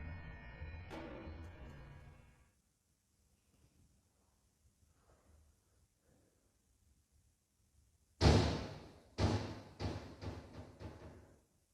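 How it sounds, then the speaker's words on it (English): A sudden loud bang like a door slamming shut, followed by several rattling knocks and reverberant thuds, after a near-silent stretch. "Right here, a door suddenly swings shut on its own."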